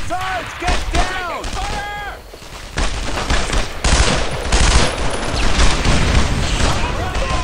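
Rapid gunfire and bursts of shots fill a World War II battle in the Brothers in Arms video game at Purple Heart Lane, loud and continuous while soldiers shout over the shooting.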